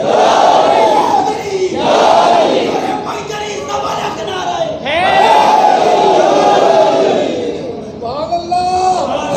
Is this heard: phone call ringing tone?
no